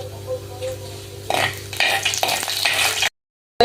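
Chana dal lentils dropped into hot coconut oil with popped mustard seeds for a Kerala banana flower stir fry, a sudden bright sizzle with stirring clinks that starts partway through, then cuts off abruptly.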